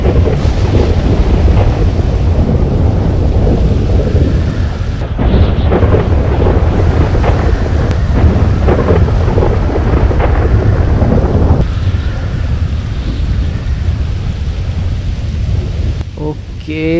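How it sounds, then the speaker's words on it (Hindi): A heavy thunderstorm in the Los Santos game world: steady loud rain and wind roar with deep rumbling thunder rolling throughout, dense and continuous with no talking. "अरे यार, ये तो बिजली भी कड़क रही है।"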